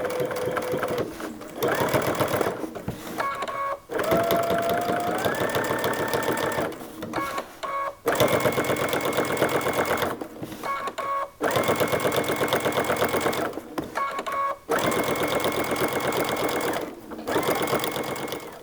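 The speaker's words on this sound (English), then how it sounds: "stitch from this seam right here, go down about 1/8 of an inch and stitch right along here all" A sewing machine stitches across a zipper bag seam in rapid, loud whirring bursts, stopping and restarting several times with brief pauses between runs.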